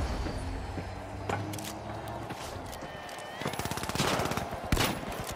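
Model 1887 lever-action shotgun fire in The Finals, a series of sharp game gunshots scattered across the stretch. They cluster more densely toward the end over a busy, clattering in-game background.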